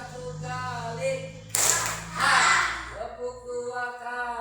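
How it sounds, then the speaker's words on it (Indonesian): A classroom of students claps once together, a single loud burst of hand claps following a teacher's spoken instruction, with talk before and after. "Ayo, tepuk 1 kali."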